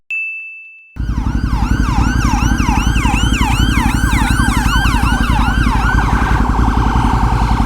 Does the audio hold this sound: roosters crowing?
no